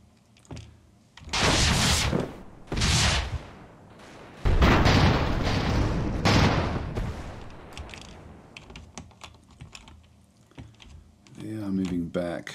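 Cannons fire from airships in Airships: Conquer the Skies, a series of heavy booming volleys with rumbling decay, several loud bursts in succession, followed by fainter clatter and a voice talking at the end.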